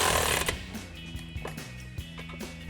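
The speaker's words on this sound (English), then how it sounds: "We have a bolt on top that we're going to use an 8mm Allen socket to tighten down." A ratchet and 8mm Allen socket tighten the bolt on an MBRP Armor Lite exhaust tip on a 2024 Ford Mustang GT, making a series of close, short metallic clicks in an uneven rhythm with no voices.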